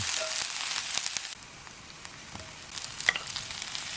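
Scallions frying in cooking oil to make scallion oil give a steady, close broadband sizzle with scattered small pops and crackles, and no voices.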